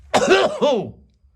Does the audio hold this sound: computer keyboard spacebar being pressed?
no